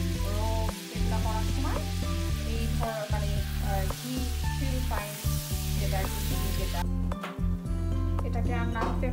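Butter simmering in a pot to make homemade ghee, a continuous fine bubbling sizzle with small pops throughout, heard under a person talking.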